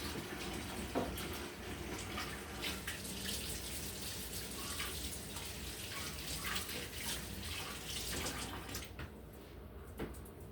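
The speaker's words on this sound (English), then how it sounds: "we have to wash our hands" Tap water runs steadily into a sink as hands are washed under it, a constant soft splashing hiss with small shifts, fairly quiet and close, with no talking.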